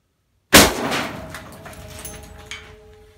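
A single loud .450 Bushmaster rifle shot fired into a ballistic gel block with shoulder bone, a sharp close blast followed by a long ringing decay and faint metallic tones, with no talking.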